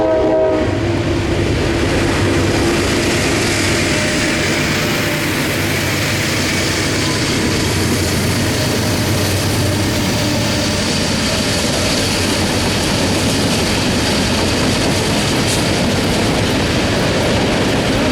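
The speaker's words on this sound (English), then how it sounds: "These trains keep coming by." A train passes close by a platform on a Pennsylvania railroad, a loud sustained rumble of engine and rolling wagons with a horn sounding near the start and steady clatter throughout.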